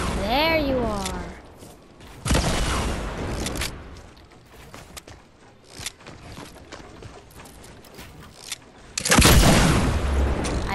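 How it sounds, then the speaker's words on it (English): Pistol shots in the Fortnite video game, a few sharp broadband bursts around two and nine seconds, loud and close, with game noise and a player's voice talking between them. "I got you with my pistol."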